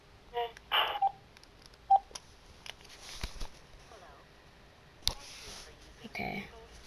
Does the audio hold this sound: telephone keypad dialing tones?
yes